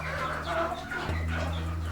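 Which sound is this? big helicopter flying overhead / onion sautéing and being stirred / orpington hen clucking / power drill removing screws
orpington hen clucking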